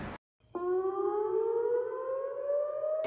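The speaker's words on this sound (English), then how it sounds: "Sirens sound regularly across most cities. The alarms are a signal." A civil defense air raid siren in Tel Aviv, Israel, starts abruptly after a brief silence and wails steadily, its pitch slowly rising, loud and sustained with no talk over it.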